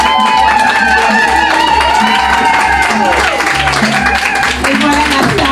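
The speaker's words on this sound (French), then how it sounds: "On applaudit encore une fois toutes ces belles personnes-là." Audience applause at an Afrika Trade Show 2023 fashion show, a dense continuous wash of clapping and crowd noise heard together with a voice and music-like tones throughout.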